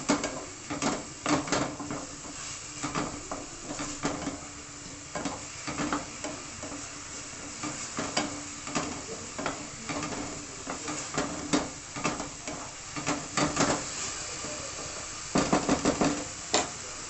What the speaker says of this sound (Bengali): আবার আঁচটা বাড়িয়ে এটাকে ভাজা ভাজা করুন।